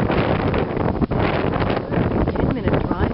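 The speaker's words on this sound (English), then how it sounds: "It's actually so windy I had to put a jacket on" Strong wind buffets the microphone at a small rocky cove on the north side of Mallorca, a steady broadband roar with gusty swells and no pauses across the whole stretch.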